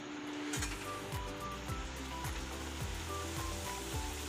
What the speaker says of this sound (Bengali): ছেলে এসছে, ভাজছি গরম গরম।